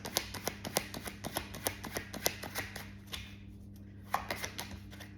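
Tarot cards shuffled by hand, a fast run of crisp riffling snaps close up, pausing briefly near the end before a final quick burst.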